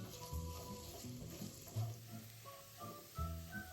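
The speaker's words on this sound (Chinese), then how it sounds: "倒入3大匙食用油，备好小红葱片50克，倒入一半爆香" Sliced shallots frying in three tablespoons of cooking oil over medium heat, a soft, continuous sizzle heard alone at low level.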